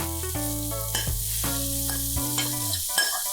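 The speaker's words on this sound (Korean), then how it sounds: "저는 당근을 볶을 때 설탕을 넣어서 같이 볶아요." Carrots and sugar stir-fry in a pan with a constant sizzle that sits under prominent steady background music for the whole short stretch.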